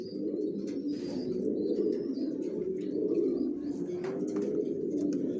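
Original racer pigeons of the Johnson line and their tagged chicks coo in a steady low murmur from a loft, with occasional faint chirps over the continuous cooing.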